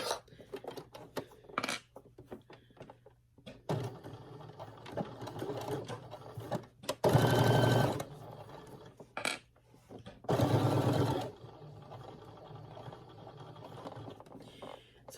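A sewing machine topstitching along the placket of a slouchy scarf, with short bursts of rapid stitching and two longer, louder runs between quiet handling clicks and rustles.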